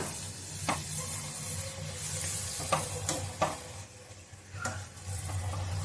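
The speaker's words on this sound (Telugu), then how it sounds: "సో ముందే నేను పూరి అన్నీ చేసి పెట్టేసుకున్నాను సో వాటిని ఆయిల్లో ఫ్రై చేసేసుకోవడమే" Puris deep-frying in hot oil, a steady close sizzle and hiss with occasional sharp crackles and spoon clinks, and no voices.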